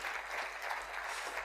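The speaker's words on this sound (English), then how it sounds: "Give him a clap" Workshop audience clapping in dense, continuous applause, loud and sustained across the whole moment.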